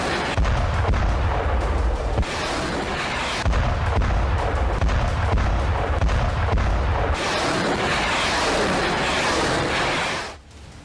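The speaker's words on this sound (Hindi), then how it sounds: "धरती फाड़ मिसाइलों का धमाका।" Rapid booming blasts from Russian missiles roll out in heavy, sustained waves, the low thunder swelling and receding across about ten seconds before cutting off abruptly near the end.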